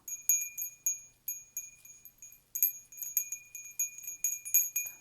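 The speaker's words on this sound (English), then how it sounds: "let me begin by ringing the bell" A small bell rings repeatedly in a clearing ritual, bright clear strikes with a sustained high ring, some overlapping in quick irregular bursts, fairly close and alone without talk.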